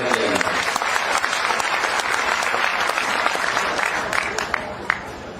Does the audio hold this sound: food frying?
no